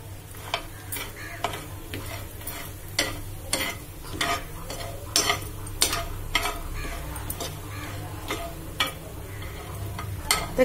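Masala badi frying in hot oil in a pan, a continuous sizzle punctuated by frequent sharp scraping and stirring knocks at an irregular rhythm, close and fairly loud, with no talk.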